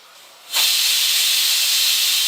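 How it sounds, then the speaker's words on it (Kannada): A pressure cooker on a home stove gives its second whistle while poori is being made. A sudden, loud jet of steam hiss bursts out and holds steady without a break. "ಕುಕ್ಕರು ಕೂಗಾಕತ್ತೈತೆ ನೋಡಿ. ಒಂದು ವಿಜಿಲ್ ಆಯ್ತು ಈಗ, 2ನೇ ವಿಜಿಲ್ ಕೂಗಾಕತ್ತೈತೆ."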